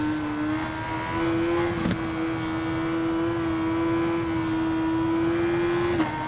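Yamaha motorcycle engine in the racing game RiDE 4 holds a steady, sustained high whine at constant revs throughout, loud and close, with a brief gear-shift blip near the middle and another near the end.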